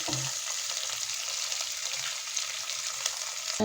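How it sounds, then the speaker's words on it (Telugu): Tomatoes fry for sambar in a pan with a steady, close sizzle and some soft stirring clatter, no voices present. "టమాటాలు వేసుకోవాలి. కొంచెం బాగా వేగాలి."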